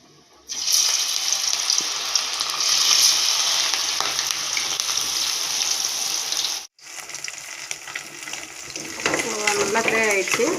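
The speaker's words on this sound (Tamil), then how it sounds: "இப்போ பொரிச்சு எடுத்துக்கலாம் வாங்க" Marinated fish frying in hot oil, a loud, steady, close crackling sizzle that cuts off briefly near the end and then resumes, with a voice speaking over it toward the finish.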